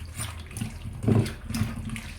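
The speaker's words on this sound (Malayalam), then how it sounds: "കുറച്ച് വെള്ളം കൂടെ ഒഴിച്ച് ഇതിനെ വേവിക്കാനായിട്ട് വയ്ക്കാം" Water poured into pork seasoned with salt and turmeric in a pressure cooker, heard as a few short splashing gushes close by, the loudest near the middle.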